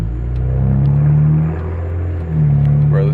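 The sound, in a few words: BMW 335i twin turbo engine with catless downpipes revving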